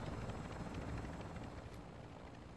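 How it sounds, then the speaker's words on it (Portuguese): A helicopter in Call of Duty Warzone DMZ gives a steady, fairly faint rotor roar, constant and unbroken across the whole stretch. "o helicóptero tá aqui"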